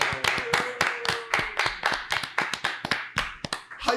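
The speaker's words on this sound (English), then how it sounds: "just round of applause to our guests" A small studio audience applauds guests on a talk show, a sparse and uneven patter of separate claps close by, with no voices over it.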